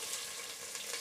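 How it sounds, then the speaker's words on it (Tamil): Chopped onion dropped into hot oil with crushed garlic and green chilli for a Tamil country chicken curry, giving a soft, steady sizzle with no voices. "வெங்காயம் போடுறேன்."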